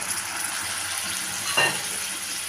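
Ginger garlic paste cooking in a pan after a little water is added, a steady close hissing sizzle with one brief louder scrape or splash of stirring partway through.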